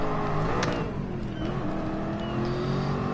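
Race car engine in Gran Turismo Sport during FIA GT Nations Cup free practice, played on a Logitech G29 wheel, droning steadily at mid revs with a brief flare, loud and continuous for about three seconds.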